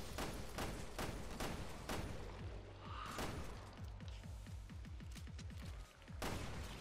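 Video game gunfire as Wesker mows down enemies: a dense, loud stream of rapid shots and bursts, nearly continuous with a short lull near the end, no voices.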